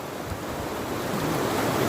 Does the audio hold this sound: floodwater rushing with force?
yes